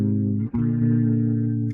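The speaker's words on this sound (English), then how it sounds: "I've got this compressor working." An electric guitar run through a chorus ensemble and compressor holds a thick, steady sustained chord, with one brief dip before it rings on evenly.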